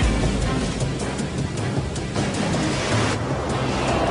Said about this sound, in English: mariners who know these waters have told of swells of unbelievable size that could appear out of nowhere